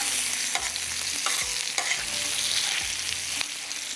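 Chopped ingredients frying in a pan for a desi seekh kabab katakat recipe, a steady sizzle with repeated scrapes and knocks of stirring, close and alone without speech.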